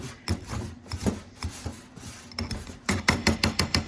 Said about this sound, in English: So we're just gonna mash this up a little bit.